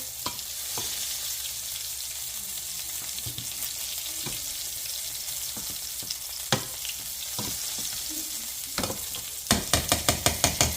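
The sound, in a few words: cube steak sizzling in butter in a pan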